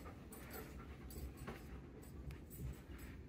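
Dogs panting rapidly at close range beside a stair gate, breathy rhythmic huffs running continuously with small whimpers and scuffling movement, no voices over it.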